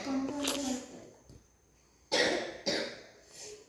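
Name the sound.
coughing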